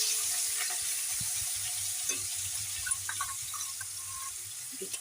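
Onion paste hisses and sizzles in hot oil already seasoned with kalo jeera (nigella seeds) and slit green chillies, a steady broadband frying noise with a few soft stirring knocks, close and moderately quiet.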